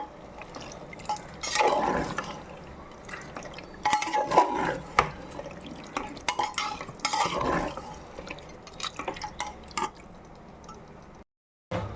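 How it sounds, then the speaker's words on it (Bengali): Marinated mutton with its marinade liquid being stir-cooked on low flame in a pot, repeated wet scraping and stirring strokes with clinks of a spoon against metal, close and without talk, ending in a brief silence. "যে ম্যারিনেট করা মাংসের জলটা রয়েছে সেটাও দিয়ে দিলাম দিয়ে একেবারে লো ফ্লেমে আপনাকে কষা মিক্স করে নিচ্ছি"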